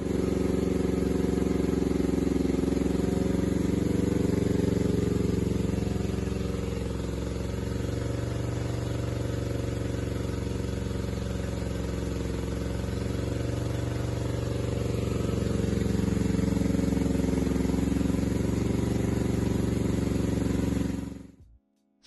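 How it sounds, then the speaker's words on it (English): Honda CB500 race motorcycle running on a dyno, a steady loud engine drone holding nearly constant revs for about twenty seconds, with a slight dip and rise midway before it cuts off abruptly at the end. "So I'll play the short clip of the bike on the dyno."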